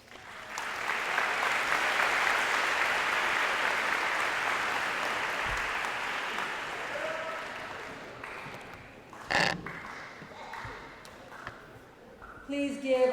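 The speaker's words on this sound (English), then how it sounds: "Please give all these athletes one last round of applause" A crowd applauds steadily for several seconds at a high school scholarship signing event, the clapping gradually fading, followed by a few scattered sounds and brief talk.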